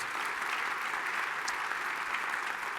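An audience at a national defense forum closing session applauds steadily, a dense wash of many hands clapping continuously at moderate distance, with no voices standing out.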